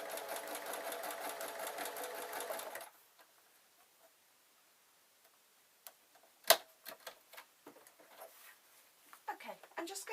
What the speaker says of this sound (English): I'm going over the seam again, just keeping an eye on the machine's not struggling too much